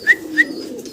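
A pair of big, thick-beaked, jet-black exhibition pigeons coo close by, giving two short distinct calls over a steady low murmur, with no talk.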